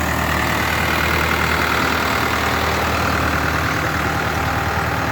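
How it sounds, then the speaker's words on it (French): Tractor engine idling steadily during a sweet potato harvest on a farm, a constant loud mechanical drone with a low throb and no pauses. "on récupère le tout au tracteur"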